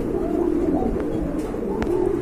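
Pigeons at a pigeon market coo in low, continuous throaty murmurs, close and moderately loud, with a couple of brief sharp clicks over the soft rolling calls.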